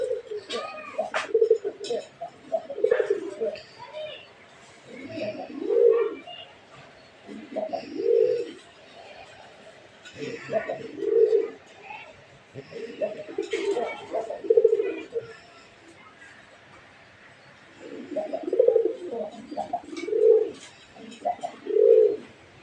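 A pair of Raj Golla pigeons coo in close, repeated bursts of throaty calls spaced every couple of seconds, with someone talking quietly between and over them.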